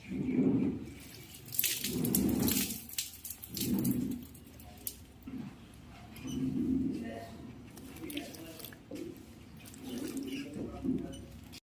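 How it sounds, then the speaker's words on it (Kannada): Water splashed over dusty plant leaves during morning watering outdoors near a roadside, making intermittent pattering and dripping in bursts, close by, with a voice talking between the splashes. "ಸ್ವಲ್ಪ ಎಲೆಗಳ ಮೇಲೆ ಕೂಡ ನೀರು ಹಾಕೋತೀನಿ"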